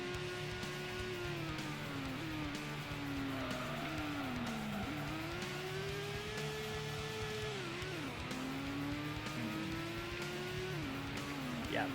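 Gran Turismo race car wailing through the big hairpin at Grand Valley Speedway, its engine note dipping and climbing steadily with gear changes as the tires screech near a spin-out, continuous and close throughout.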